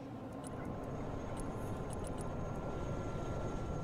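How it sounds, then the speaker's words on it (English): A jet aircraft in the real-time strategy game Broken Arrow, a steady broad engine roar throughout, with faint small clicks over it and no talk. "Enemy jet coming out."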